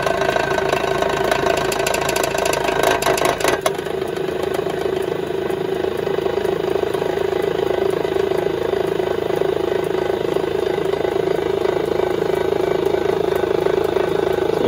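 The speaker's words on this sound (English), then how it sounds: "Bit noisy, I think, because I've got the motor touching the jar here or something. I think the other jars are rattling." The motor of a Pearl watch cleaning machine runs with a steady, loud drone while its jars rattle against each other, with a harsh buzzing clatter in the first few seconds that then settles into a constant hum.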